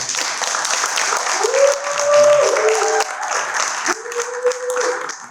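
Conference audience clapping for a speaker, a sustained broad patter of many hands, with a voice or two speaking over it in the room.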